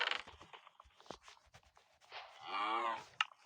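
A cow in the Minecraft video game lets out one drawn-out moo near the end, preceded by scattered soft clicks and shuffling game sounds.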